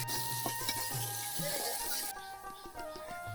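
Onions sizzling in hot oil with garam masala in a kadai, a dense close frying hiss with a few stirring scrapes, easing to a softer sizzle toward the end.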